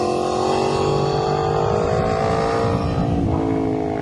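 A motorcycle cruises in third gear, a steady, loud engine drone held close and continuous for several seconds, pitch sliding slowly with small throttle changes and no talk over it.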